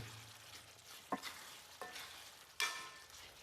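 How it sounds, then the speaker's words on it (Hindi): Potatoes and masala frying in a new kadhai sizzle faintly and steadily at low volume, broken by three distinct scraping clanks of a spoon against the pan, with no speech. "अभी हम आलू एंड मसाला को भून रहे हैं"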